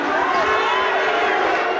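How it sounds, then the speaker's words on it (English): A boxing arena crowd in a professional bout lets out a sustained, broad murmur of displeasure, steady and enveloping, without a single clear shout standing out. "and the crowd not happy with that"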